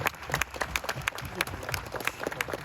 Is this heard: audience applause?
yes